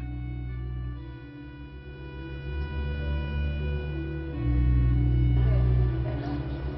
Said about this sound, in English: This is the magnificent organ of the cathedral, and you can hear some of this music in the background.